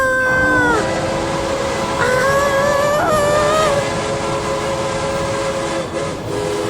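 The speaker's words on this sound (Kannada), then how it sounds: "ಟ್ರೈನ್ ಶಬ್ದ ಕೇಳ್ತಿದೆ" A train rumbles steadily while its horn sounds in long, loud, wavering blasts that shift pitch, fading slightly toward the end.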